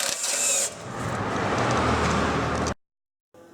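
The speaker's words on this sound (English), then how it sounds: "Undo the bolt." A bolt is worked loose on the rusted exhaust of a Vauxhall Zafira 1.9 CDTI. A loud, continuous grinding rasp runs close by for most of the clip, then cuts off abruptly into silence.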